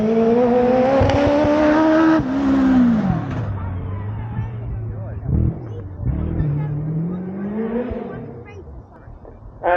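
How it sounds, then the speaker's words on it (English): A Singer Chamois Super Sport fitted with a Honda Blackbird motorcycle engine climbs the hill at a hill climb event. The engine screams loudly with rising and falling revs through gear changes, then recedes and the note drops as the car pulls away. "So Roy Sims on his way up the hill in the Singer Chamois Super Sport Honda Blackbird Power."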